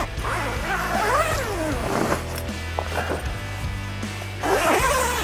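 A YKK zipper slides along a tent's canvas and mesh window in a few quick, rasping pulls, close up, with faint rustling of fabric between strokes.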